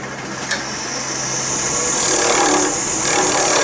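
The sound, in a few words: skew chisel cutting wood on a lathe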